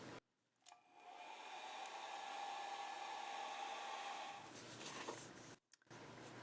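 A hair dryer runs steadily for about four seconds, drying thick, non-runny cheap art paint, a loud continuous whir that cuts off abruptly, followed by faint handling noise.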